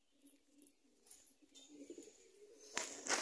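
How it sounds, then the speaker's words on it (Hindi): A sluggish, unwell pigeon, a black Saharanpuri, gives soft low cooing in short bursts, with faint higher chirps and a brief rustle near the end, close by in a quiet room. "ये देखिए मेरा ये वाला कबूतर"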